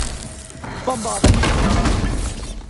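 Booming burst of the Bombarda explosion spell in Hogwarts Legacy, a loud sudden blast that follows a short lead-up and breaks into shattering debris and a lingering rumble.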